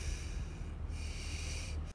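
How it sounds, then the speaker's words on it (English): A sick person's labored, struggling breathing in a hospital, close and steady with harsh snorting, wheezing rasps through each breath, alone and without talk. "you can hear that he cannot breathe. His breathing sounds horrible"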